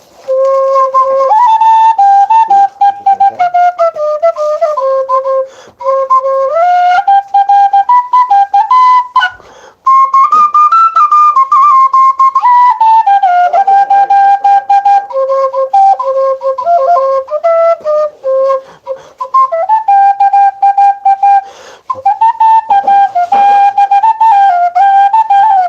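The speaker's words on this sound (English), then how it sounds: "you found the Clark whistle" A Clark whistle is blown continuously as a bright, loud melodic tune, its pitch sliding and stepping up and down with brief breaths between phrases, alone and close.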